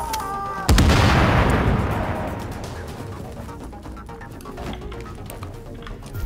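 A heavy explosion in the video game Tom Clancy's The Division bursts in sharply near the start, then a long rumbling decay tails off beneath scattered smaller pops and game noise.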